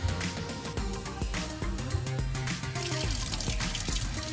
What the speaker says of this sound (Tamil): கோல்டு வாட்டர் போட்டு வாஷ் பண்ணிக்கலாம்